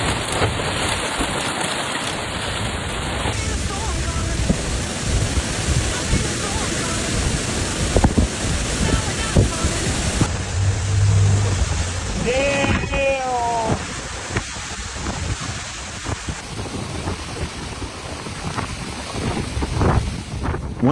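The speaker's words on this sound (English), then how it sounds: "Residents watched as sheets of rain and powerful gusts blasted streets, bridges, and high-rise buildings throughout the city." Severe storm winds and driving rain in Chicago, with 70+ mph gusts, roar steadily across the city streets, bridges and high-rises, buffeting the microphone with constant loud rushing noise and a few brief faint tonal sounds partway through.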